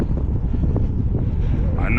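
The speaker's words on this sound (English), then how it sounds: "I know it's a little windy." Steady low rumbling wind buffeting a microphone, a continuous blustery roar filling the low end throughout.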